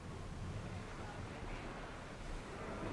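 Open-sea waves in Assassin's Creed Odyssey, a continuous low rumble of surf and wind that stays faint but steady throughout.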